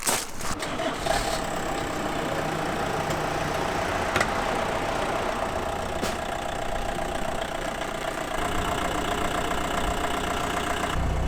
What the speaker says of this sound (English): That unmistakable PD engine sound.